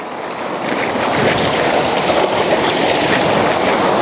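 Ocean waves break and wash onto a beach at night in a continuous loud roar of surf, mixed with wind buffeting the microphone.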